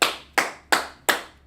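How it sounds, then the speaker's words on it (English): Two hands clap in an even, steady rhythm, five sharp close claps about a third of a second apart, each decaying quickly, with no talking. "clap it up for Kapah"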